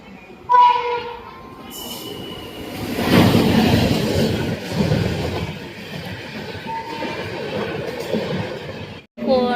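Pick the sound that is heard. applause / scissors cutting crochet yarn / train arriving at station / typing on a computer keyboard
train arriving at station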